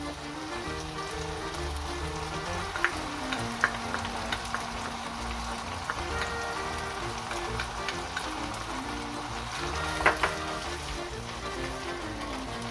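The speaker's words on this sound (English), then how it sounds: "So you need to leave it for a while to boil out all the alcohol." White wine bubbles and sizzles steadily in a risotto pan as the alcohol boils off, a close, continuous crackling simmer with a few sharper pops and clicks.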